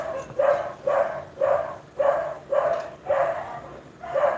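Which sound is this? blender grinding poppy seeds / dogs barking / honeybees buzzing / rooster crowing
dogs barking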